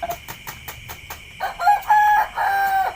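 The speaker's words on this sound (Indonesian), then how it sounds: "Aya kokok." A rooster crows near a home, its harmonic call rising over faint background noise after a run of soft rhythmic taps, loud and close in the latter half.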